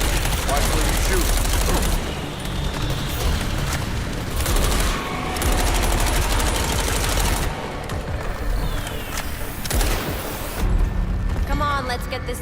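Rapid video game gunfire roars almost without a break, loud and close, mixed with heavy impacts and voices talking over the shooting.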